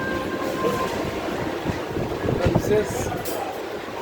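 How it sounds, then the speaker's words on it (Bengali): Passenger train on a Sundarbans trip heard from on board, with a loud steady rolling rumble and some rhythmic clatter of the wheels, while a person speaks briefly over it. "এই ট্রেনে উঠে পড়লাম"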